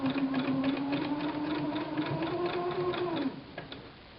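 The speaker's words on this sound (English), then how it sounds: "just let it feed into the sewing machine" A sewing machine stitches elastic onto pillowcase fabric, running in a steady, close whirring hum for about three seconds before stopping, with a few faint clicks afterward.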